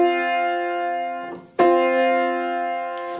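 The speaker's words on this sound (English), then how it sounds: "A fourth sounds like this." Two sustained, harmonically rich tones an interval of a fourth apart ring out at a concert for home-school students, one held note giving way to the next with a sharp attack, steady and loud, without speech.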